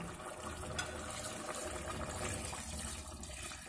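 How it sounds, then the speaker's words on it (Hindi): About half a litre of water pours into a pan of masala-coated chicken curry cooking over a flame, a steady close gushing that holds evenly throughout. "अब डाल देंगे लगभग आधा लीटर पानी।"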